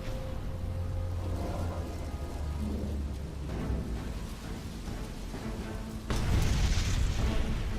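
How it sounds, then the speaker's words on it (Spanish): A torpedoed oil tanker explodes at night, a documentary-style sound effect of deep rolling booms and rumbling, swelling into a louder blast near the end. "la explosión ilumina la noche provocando enormes llamaradas"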